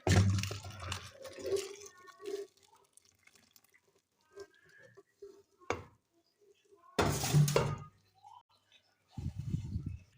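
Boiled vermicelli (seviyan) drained in a kitchen: water pours and splashes in three separate bursts, separated by near-silent pauses with faint clinks.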